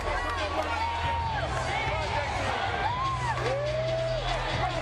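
A boxing arena crowd gives a mild, murmuring cheer with a few whoops as James Toney walks out for his 2003 fight with Evander Holyfield, heard under a commentator's steady talk.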